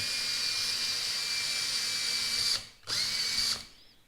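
A power drill spins a 3M Stripe Off Wheel to remove adhesive. It runs as a loud, steady high-pitched whine, cuts out briefly near the end, then spins up again and winds down.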